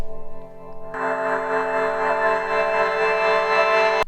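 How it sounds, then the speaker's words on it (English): A dense, sustained wash of digital, modem-like noise swells in abruptly after a quiet tonal opening and holds steady and loud to the end. "Now comes a riser with noise from the sample."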